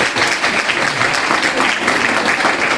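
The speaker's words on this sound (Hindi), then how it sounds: "तालियां फिर से एक बार बच्चे के लिए।" Steady, dense applause from a crowd, loud and sustained throughout with no break.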